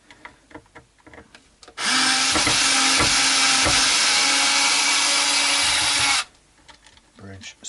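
Power drill backing bridge screws out of a Tenson Telecaster guitar body, a loud steady whine lasting about four seconds between quieter handling knocks and brief talk.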